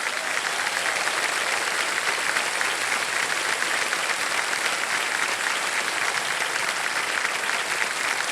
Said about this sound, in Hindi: बहुत बहुत तालियां बज जाए इनके लिए